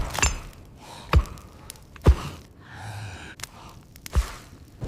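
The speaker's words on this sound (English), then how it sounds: "A gentle blow feeds the ember." Soft breaths blown onto a glowing ember in a prehistoric fire-making scene: several gentle puffs spaced about a second apart, each paired with a dull low thump, close and quiet.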